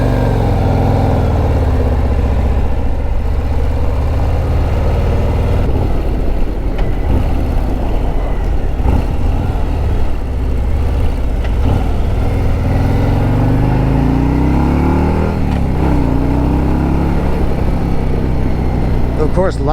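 2026 Harley-Davidson Road Glide motorcycle with a 117 engine, a loud continuous rumble that swells and eases as the throttle is worked, heard close with a rider talking over it.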